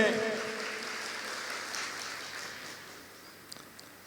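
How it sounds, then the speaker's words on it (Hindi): A church congregation at a worship service claps together in a broad, steady wash of applause that gradually fades over about four seconds, ending with a few scattered final claps. "ईश्वर के लिए ताली बजाए, धन्य के लिए ताली बजाए"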